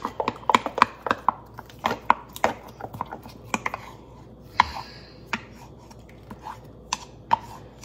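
A fork or knife mixes sourdough starter in a jar, giving a run of sharp, close taps and scrapes at an uneven pace that thin out toward the end, with no voice.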